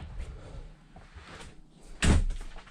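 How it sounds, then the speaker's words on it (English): A door in a man cave being finished shuts with a single sharp, solid thud near the end, preceded by quiet shuffling and handling sounds close by. "Let me close the door."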